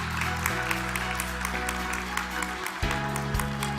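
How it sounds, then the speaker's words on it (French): Audience applause at a French-language conference round table on digital transformation, steady clapping from a crowd as a guest is called to the stage, held under a continuous low hum and tonal background music. "Sous vos applaudissements."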